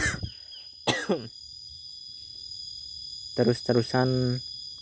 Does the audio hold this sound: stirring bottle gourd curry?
no